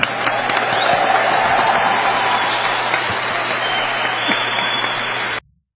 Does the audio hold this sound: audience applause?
yes